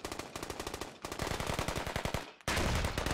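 Sustained automatic gunfire from a machine gun in the military shooter game Squad, rapid loud bursts in a steady rhythm with brief breaks between strings of shots, no talking.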